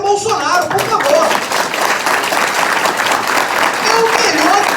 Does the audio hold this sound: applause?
yes